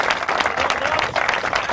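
Audience at a fastest-wheelie motorcycle competition in Elvington, UK, 2005, giving a dense, steady round of applause, many hands clapping close together and loud throughout.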